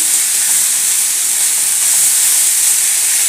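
Sprouted moth beans sizzling in a hot oil tempering, a steady, loud, even hiss with no breaks and no voices.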